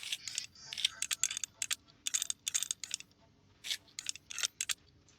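Small screws being driven into a motherboard in the PC Building Simulator game, heard as a run of sharp, bright clicking bursts in uneven groups, close and fairly loud, with no talking.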